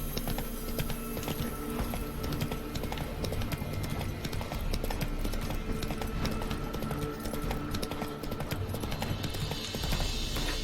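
A horse galloping in The Witcher 3 video game, a steady fast clip-clop of hooves that runs unbroken under dense game ambience and stays loud throughout.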